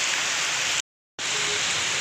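Heavy rain pours outside a house during a cyclone, a dense, steady hiss of drops hitting surfaces, broken by a brief cut of silence in the middle.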